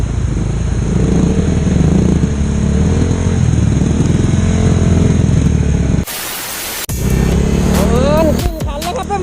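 A Honda CBR motorcycle rides through deep floodwater in the rain, its engine droning loud and steady with rain and water noise, then a sudden burst of broadband wash and splashing before the engine returns.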